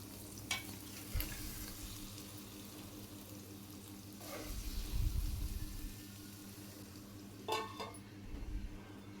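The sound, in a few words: stirring spinach and egg fry in a covered pan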